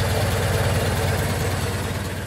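A Ford Model T engine idles steadily with an even low chugging rhythm, loud and close, with no talking.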